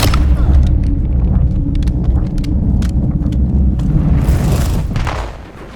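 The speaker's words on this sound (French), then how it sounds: "Grenade à dispersion envoyée." A cluster grenade goes off during a Call of Duty match, a loud rolling boom with scattered sharp bursts over constant battlefield rumble, a brighter blast cracking near the end before the noise fades.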